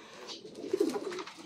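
Racing pigeons cooing in a loft, a short soft run of low throaty coos close by, with no talk over it.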